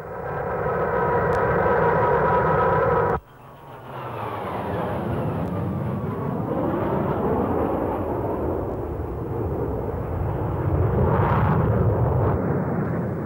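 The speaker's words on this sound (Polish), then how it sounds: "Z bazy Al-Bumbah wystartowały skonstruowane w Związku Radzieckim samoloty bojowe Su-22," Soviet-built Su-22 combat jets taking off from the Al-Bumbah air base, a loud roaring jet blast after an abrupt cut, with sweeping pitch shifts as the aircraft accelerate and pass.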